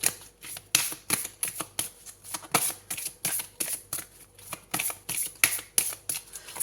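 Oracle cards being shuffled by hand in a steady run of crisp riffling bursts, each a quick papery flutter repeating roughly twice a second, close and clear with no talking over it.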